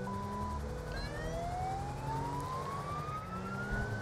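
An Australian-style police car siren in Grand Theft Auto V with the LSPDFR mod wails with rising and falling sweeps over a steady engine drone, somewhat distant and moderately quiet.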